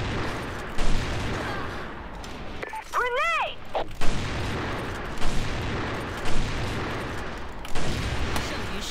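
Gunfire from a sniper rifle and other weapons rings out in a shooting video game, with a series of loud sharp shots spread across the clip over dense battle noise and a brief rising electronic tone.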